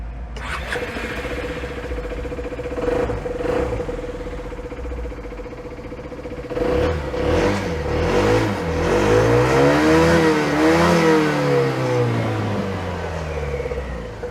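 A 2020 Royal Alloy GP 200 LC ABS scooter, styled after a 1960s–70s Lambretta, idles and then accelerates hard, its engine note rising and falling through loud, close revs.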